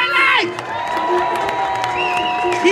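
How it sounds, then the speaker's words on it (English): A live theme-park street-show audience applauds and cheers in an outdoor setting, a steady wash of clapping with scattered whoops, while a loud announcer voice speaks over it throughout. "Keep that applause going"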